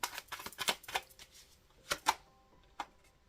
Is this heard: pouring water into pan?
no